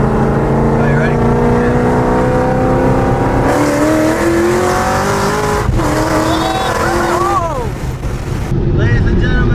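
A car on drag radials pulls hard at high RPM, its engine roaring loud and rising in pitch through the gears, with a brief tire squeal, filling the clip up close.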